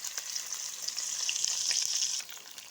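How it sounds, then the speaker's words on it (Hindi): Onions frying in a pan sizzle with a steady, bright hiss for a few seconds, with small crackles throughout and no voices. "अब हम इसमें प्याज फ्राई करने के लिए डाल देंगे"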